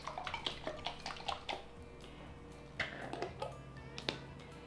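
Balsamic vinegar, mustard and maple syrup dressing shaken in a container, a quiet run of quick sloshing, clicking rattles in uneven bursts, close and soft, with no talk.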